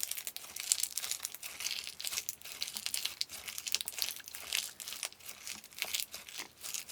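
Slime mixed with eraser crumbs is squished by hand, making continuous soft crackling and crinkling pops, close up and fairly quiet, with no talk.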